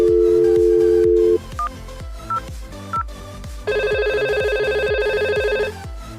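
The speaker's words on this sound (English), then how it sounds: "Let's try to dial the other phone's number." A VoIP desk phone dials a number: a steady dial tone, then several short separate keypad beeps, followed by a long repeating ringback tone, clear and close with no talking.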